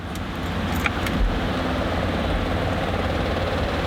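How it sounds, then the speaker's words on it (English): A Datsun 260Z engine with the choke pulled runs steadily and loudly close by, a constant mechanical drone with a brief jangle of keys near the start. "As for starting car, let's start her up."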